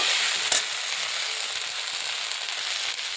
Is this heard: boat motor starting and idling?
no